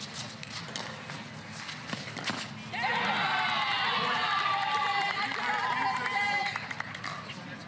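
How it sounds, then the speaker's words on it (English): A rowdy crowd at a volleyball semifinal swells into loud, sustained cheering for a few seconds, then drops back, while a commentator talks throughout. "Rowdy crowd supporting Newman and Alshon out there tonight."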